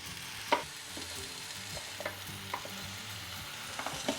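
Porterhouse steaks sizzle steadily on a hot Ninja Foodi Smart XL grill, with soft clanks of tongs as the meat is flipped, a few sharper knocks standing out over the continuous close frying hiss.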